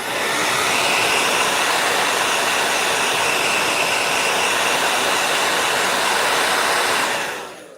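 A hair dryer blowing on wet watercolor paint, a loud, steady, close whoosh that runs unbroken for several seconds and then cuts off abruptly, with no talking.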